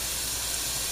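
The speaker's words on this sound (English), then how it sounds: "Now the butter's melting" Butter melts in a frying pan, giving a steady, close hiss of sizzling with no voices over it.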